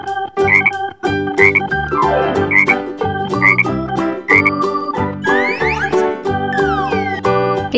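A toy frog croaks in a children's farm-animal sound toy, with repeated rhythmic croaks over a bright, tinkling musical backing, loud and close, and a rising electronic sweep near the end.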